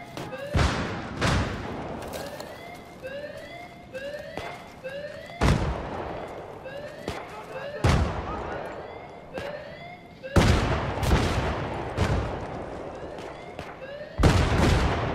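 Gunfire in a video game clan match: sharp, loud shots crack out irregularly, some in quick pairs, with a few gaps between bursts over a steady background of game ambience.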